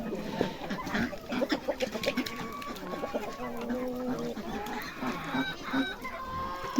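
Chickens clucking and cackling in a busy flock of red hens and roosters, with a rooster's crow rising through the noise, fairly close in an outdoor village yard.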